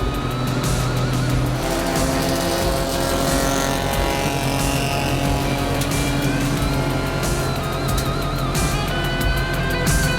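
A small hatchback races in a 24-hour event, its engine droning loud and constant with steady revving over the continuous roar of other race cars close by.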